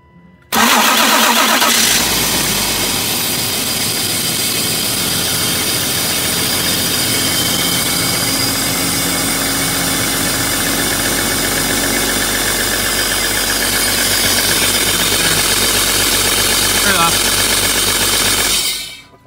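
A car engine cranks and catches, then settles into a steady, loud idle that runs on evenly before cutting off at the end.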